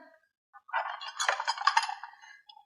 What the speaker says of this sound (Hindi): चलो उठाओ ये सारे बर्तन।